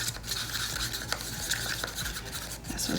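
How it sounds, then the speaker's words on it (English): Artist Loft Silver paint being stirred with JoSonja medium, a soft continuous scraping and swishing of a brush or palette knife, close and quiet with no talk. "go ahead and mix up this first one"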